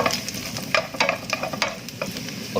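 Garlic fries in hot oil, a close, steady sizzle broken by short crackling pops and stirring scrapes, with no voices.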